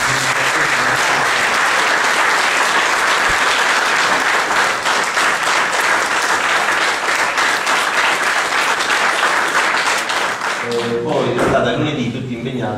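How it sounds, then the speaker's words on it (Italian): A crowd at a town event in Montemiletto gives a long, loud round of applause for the whole municipal team, steady and dense, thinning slightly near the end as a voice returns. "Quindi io direi di fare un applauso all'intera"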